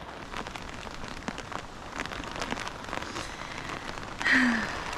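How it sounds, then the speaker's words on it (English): Rain falls during a storm at a homestead, with a steady patter of drops on surfaces throughout and a short tonal sound near the end. "Oh, it wasn't meant to rain today."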